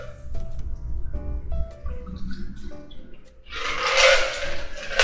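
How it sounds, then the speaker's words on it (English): Iced tequila, grapefruit and lime cocktail strained from a shaker into a glass, a brief watery pour and splash that swells near the end, following some clinking and handling sounds. "Strain the contents into your glass."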